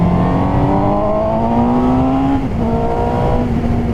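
A 2017 Suzuki GSX-S750 motorcycle engine revs up past 5000 rpm, a smooth, steady climbing whine from close by with a brief dip as the gear changes, then pulling again.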